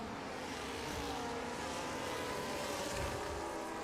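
Formula 1 cars race around the Baku circuit in the F1 25 video game, a steady, dense engine roar that holds loud and unbroken throughout with no talk.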